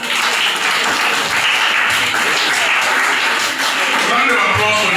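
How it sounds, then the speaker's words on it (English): A school audience applauds during a visit by Oba Hills National Park conservators, dense continuous clapping filling the room, loud and close, with some voices faintly audible beneath the clatter. "Round of applause for that again"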